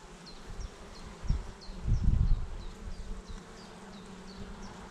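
A steady, faint insect hum of many honeybees building comb in a hive from a split colony fills the background, with a few low thumps and handling noises rising briefly partway through.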